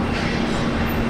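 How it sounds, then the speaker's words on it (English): A Jetstar Airbus A320 Classic airliner arrives, a loud steady broadband roar with a low engine hum throughout, close and continuous, with no talking. "Jetstar's A320 Classic arriving here"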